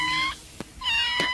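A human voice imitates a cat, giving two drawn-out meows close to the listener, each followed by a short breath or click.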